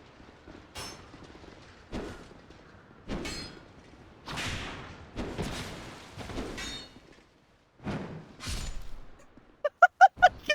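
Whip lashes in the dark fantasy action game Dark Souls 2, several sharp cracking strikes with whooshes and thuds spaced across the clip, ending in a quick cluster of bright metallic hits, no talk.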